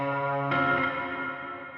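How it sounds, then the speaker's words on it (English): A sustained, harmonically rich music tone, with reverb added, whose tail swells into a diffuse, echoing wash about halfway through, lingering loudly without speech. "There's a little reverb I just put in"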